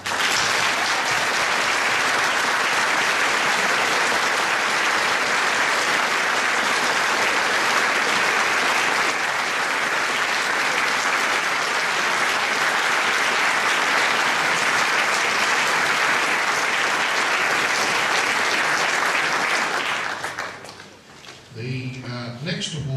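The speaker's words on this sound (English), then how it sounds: "A massive round of applause" A school's senior prize-giving audience applauds steadily and loudly for about twenty seconds before the clapping fades out near the end.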